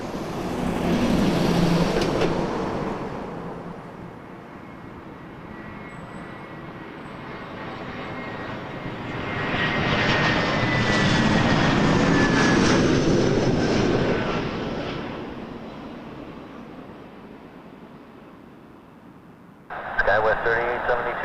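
An airliner flies past at Toronto Pearson Airport at night. Its engine roar swells to a peak and fades away under intermittent talk and radio chatter.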